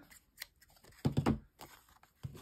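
Scissors cutting paper while a postcard is made: a few faint snips, with a quick cluster of louder cuts in the middle and another soft snip at the end, close by in a quiet room.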